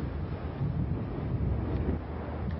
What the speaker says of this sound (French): de nombreux promeneurs ont affronté les rafales, un vent qui rend toute navigation particulièrement périlleuse